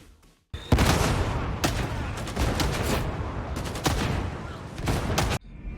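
Bolt weapons in Warhammer 40K Darktide fire in heavy, rapid bursts, dense booming shots close and loud, broken by a few brief pauses between volleys.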